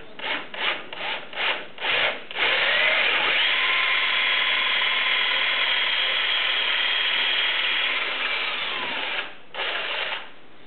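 A drill boring a balance weight hole into a wooden propeller hub: several short rubbing bursts, then a steady, close grinding drone that fades and ends with two brief pulses.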